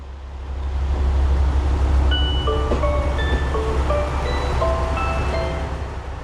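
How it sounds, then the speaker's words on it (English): Kiha 187 diesel train, in service since 2001, heard from inside as a steady low engine drone and rolling rumble, swelling and easing, with scattered faint squeaks and a sharp click midway. "This is a Kiha 187 diesel train that entered service in 2001."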